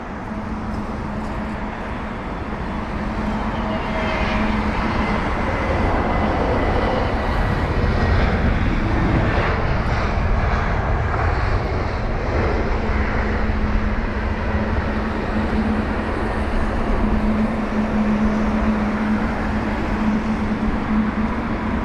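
An Airbus A320neo at London Heathrow, a loud continuous jet engine roar that swells and holds, with a steady low drone underneath and no talk.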